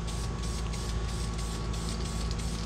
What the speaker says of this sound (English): We're just painting it right now.